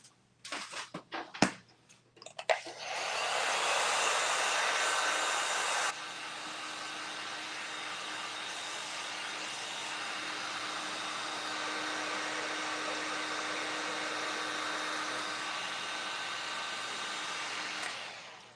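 A hair dryer runs loud and close over a craft project, a steady whooshing roar lasting many seconds after a few brief knocks and clicks at the start, dropping slightly in intensity partway through.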